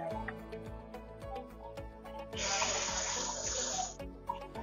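Tap running into a quarter-cup measure in a home kitchen while baking banana muffins, a steady hissing rush of water lasting under two seconds amid background clatter.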